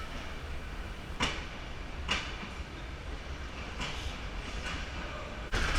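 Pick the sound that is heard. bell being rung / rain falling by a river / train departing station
train departing station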